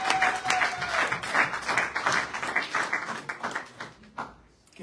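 A church congregation breaks into sustained applause, with dense clapping and some cheering voices throughout that fade out near the end.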